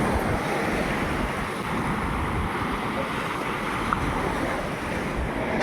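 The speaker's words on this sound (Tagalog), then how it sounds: "ang alon. Pa high tide pa nga ito, hindi pa tapos ang high tide." Ocean surf at high tide near a river outlet sandbar rushes in a continuous loud roar, with heavy wind buffeting the microphone and no voices.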